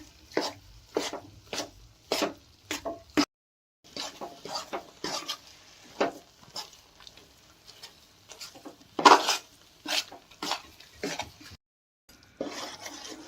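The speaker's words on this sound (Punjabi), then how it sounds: "ਆਪਾਂ ਭੁੱਜਣ ਲੱਗ ਗਿਆ ਵਾ ਹਜੇ ਟਾਈਮ ਲੱਗੂਗਾ ਇਹਨੂੰ ਹਲਾਈ ਜਾਣਾ ਵੀ ਥੱਲੇ ਨਾ ਲੱਗ ਜਾਵੇ" A spatula scrapes and taps through wheat flour roasting in a pan for panjiri, in a steady series of soft, close scratchy strokes with a few brief pauses and no talking.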